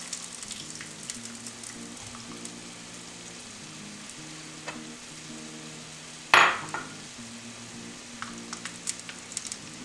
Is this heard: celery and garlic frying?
yes